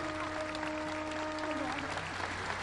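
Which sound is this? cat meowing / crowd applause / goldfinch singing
crowd applause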